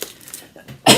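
A single sharp cough bursts out at the end, close and loud, after a short stretch of quiet.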